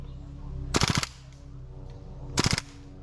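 Bursts of airsoft-style automatic gunfire from a game battle, two rapid rattling volleys close by, each about a third of a second long, with a quiet pause between them and no talking.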